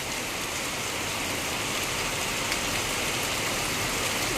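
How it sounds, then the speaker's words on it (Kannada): Heavy rain pours down in a dense, unbroken hiss that stays loud and even throughout, with no voices. "ಆ ಥರ ಮಳೆ ಬರ್ತದೆ"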